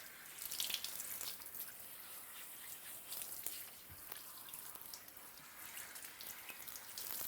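Warm water runs steadily from a tap, rinsing shampoo out of a hair system, a soft continuous splashing with small drips and no talking.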